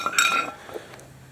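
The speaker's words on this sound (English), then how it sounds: "Put my frying pan over the fire like that." A metal frying pan set down over a campfire in the woods gives a couple of quick clanks and clinks near the start, then fades to quiet outdoor background.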